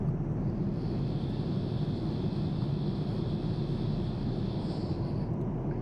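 Cabin noise aboard an ANA international flight bound for Bangkok, cruising out over the sea near Da Nang: a constant, heavy low roar with a faint steady whine above it, unbroken and without speech.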